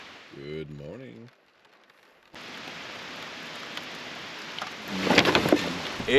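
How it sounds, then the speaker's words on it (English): Heavy rain pours steadily outdoors, a dense hiss that grows louder toward the end, with a sharp crack or rumble near the close; a voice speaks briefly at the start before the downpour takes over. "It's pouring rain."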